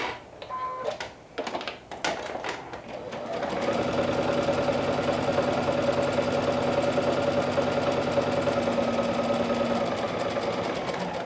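A sewing machine runs a long basting stitch at a 5/8-inch seam allowance for gathering, starting after a few separate clicks and handling noises, then holding a steady, close, continuous mechanical whir to the end.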